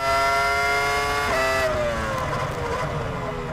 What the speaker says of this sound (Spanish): Probablemente este V10 es uno de los motores que mejor suenan de toda la historia de la Fórmula 1